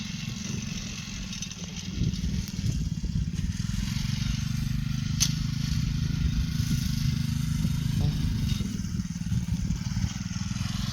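A mini tractor's small engine chugging steadily close by while plowing a sugarcane field, a constant low throbbing drone with faint clattering and scraping from the working machinery.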